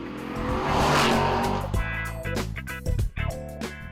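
A naturally aspirated Aston Martin Vantage engine revs hard and accelerates, a loud rising roar that breaks into sharp gear-change dips and bursts, close by.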